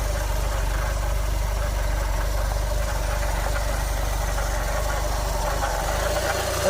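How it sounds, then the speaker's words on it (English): A VW Cabriolet engine idles at a constant steady drone with a faint rhythmic ticking from a slightly off crank pulley, running alone and close without any talking. "That's probably that noise I'm hearing, that crank pulley."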